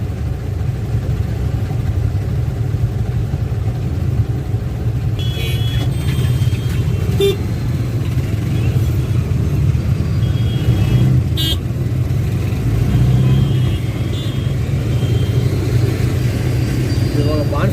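Steady morning traffic at the Ramamurthy Nagar signal: a continuous roar of idling and moving engines, with several short car horn toots sounding over it and voices faintly in the background.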